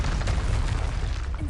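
A Confringo blasting spell detonates in the Hogwarts Legacy video game, a dense, sustained booming roar with rumbling low end that stays loud and steady throughout the brief burst.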